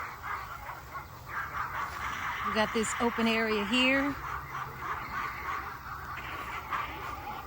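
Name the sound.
dog barking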